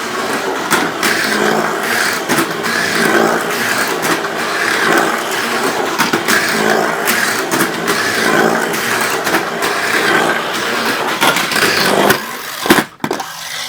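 Red MA chassis Mini 4WD toy car running a track course with a corkscrew section, a loud continuous high-pitched motor whine with rhythmic clattering pulses as it laps, ending in a few sharp knocks.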